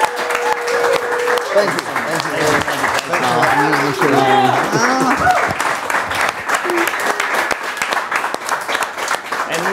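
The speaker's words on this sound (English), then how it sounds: "a big round of applause" Studio audience applause for a guest on a live variety show, a steady broadband clapping wash running the full length under a host's speech that fills the middle.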